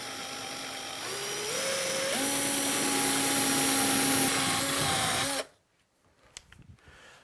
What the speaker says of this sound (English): I will drill my hole in there first